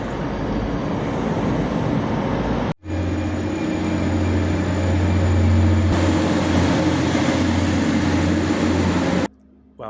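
A train pulls into a station on a line bound for Huddersfield, its loud, steady low rumble and hum continuing for several seconds, broken by two brief gaps in the sound.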